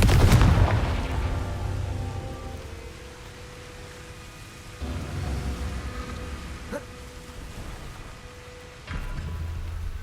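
A Confringo blasting spell in the Hogwarts Legacy video game bursts as a loud boom at the start, then gives way to rumbling game ambience with two more heavy surges later.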